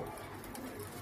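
Teddy pigeons cooing among a group of birds, a soft, brief coo over steady background noise.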